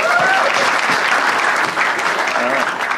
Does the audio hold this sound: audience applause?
yes